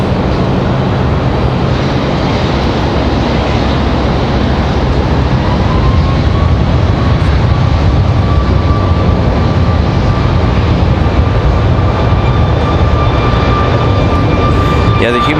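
An American Airlines Boeing 737 MAX 8 jet taking off gives a loud, continuous roar that holds steady throughout, with a faint rising whine partway through and a voice talking over it.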